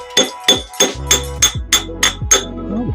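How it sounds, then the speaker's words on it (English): Hammer blows on an old brass drift against an engine piston, about nine sharp metallic strikes in a quick steady rhythm, close and loud, ringing briefly after each hit. "we're going to use the old brass drift here"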